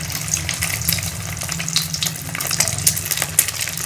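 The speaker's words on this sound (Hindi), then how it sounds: "अब मैं इसके अंदर कटलेट्स अपने फ्राई कर लूँगी।" Potato kabab cutlets fry in hot oil in a kadhai, giving a continuous close bubbling sizzle with small sharp pops scattered throughout and no talking.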